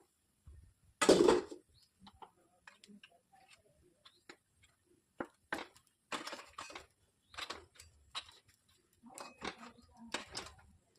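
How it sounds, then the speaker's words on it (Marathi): A lid goes onto a pan of dal baati, a loud clattering knock followed by a series of lighter ticks and taps of metal and utensils, close, with soft talk in between. "आता मी हे झाकून देते"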